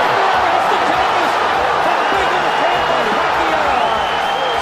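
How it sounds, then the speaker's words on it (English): A boxing arena crowd roaring throughout a bout, a loud, dense wash of cheering voices under someone talking over it. "With the crowd roaring"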